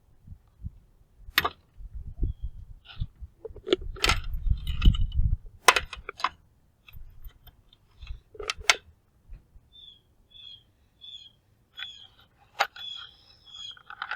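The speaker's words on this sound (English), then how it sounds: "Take out the bolts. I'm going to add 2" Metal bolts are dropped into a cup in a classroom heat investigation, with scattered sharp clinks and rattles, some clustered and some isolated, over quieter handling noise.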